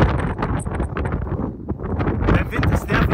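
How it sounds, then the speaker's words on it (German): Gusty desert wind near Dubai buffets the microphone in a steady, loud rush, with faint voices in the background. "Der Wind ist nervig."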